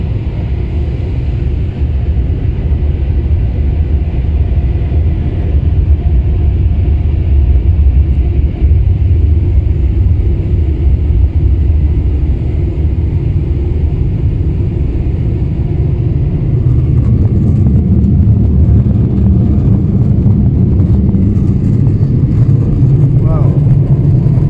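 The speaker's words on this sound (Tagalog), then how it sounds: "Touchless car wash." Powerful blowers in a touchless car wash in Halifax roar steadily as they dry a car, a loud continuous low rumble that swells toward the end, with people talking faintly underneath.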